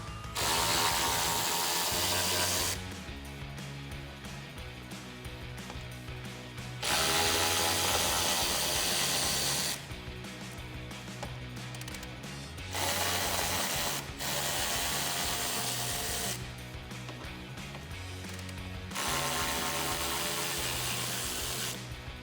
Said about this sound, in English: grab an 8 millimeter socket and your ratchet and let's get this off